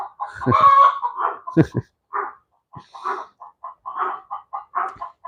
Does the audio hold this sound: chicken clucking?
yes